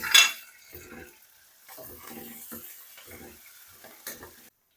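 Garlic, ginger and green chillies frying with onions whose edges are turning golden, giving a steady soft sizzle broken by intermittent stirring scrapes and a clatter of a utensil against the pan.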